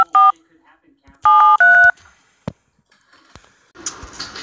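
Telephone keypad dialing tones for a prank call, three short clear beeps in an uneven rhythm, each a steady pair of pitched tones, followed by soft clicks and a brief burst of hiss at the end.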